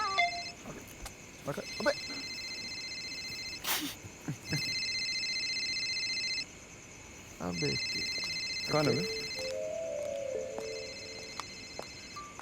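A phone rings in a Hindi student-film scene, repeated electronic ringtone tones running steadily across the clip under brief male speech, with short pauses between ring bursts.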